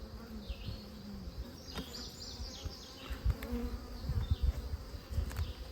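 Honey bees from a rescued hive buzz close to the microphone, a dense continuous hum with individual bees droning past, plus light handling bumps at the hive.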